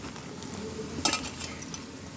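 Nilava pachhadi, a bitter gourd pickle, is mixed by hand, giving soft wet squelching and stirring textures with a brief brighter clink near the middle, quiet and close.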